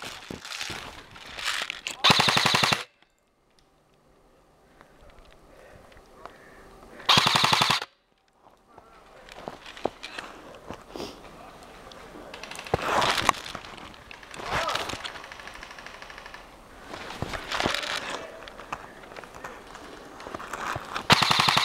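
Airsoft guns firing during an outdoor airsoft battle, bursts of rapid full-auto shots alternating with single pops at varying distances, with players calling out between volleys.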